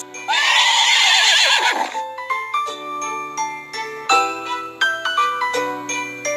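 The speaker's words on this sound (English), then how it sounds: "Horse." Cartoon horse neighing in a children's farm animal puzzle game, one loud, shaky whinny up front, then light chiming music carries on alone.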